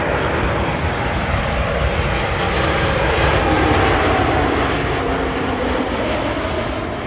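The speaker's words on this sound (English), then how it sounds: "Boeing 737 Max." A Boeing 737 Max jet comes in to land at Toronto Pearson, a loud continuous engine roar with broadband rumble that swells gently and fades slightly toward the end, no voices.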